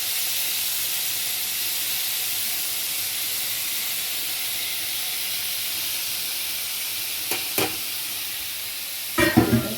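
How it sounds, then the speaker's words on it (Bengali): Prawns fry in a little oil for a kundru and potato curry, giving a steady, even hiss of sizzling with a couple of faint utensil clinks near the end. "অল্প তেল দিয়ে চিংড়ি মাছটা ভাজছি।"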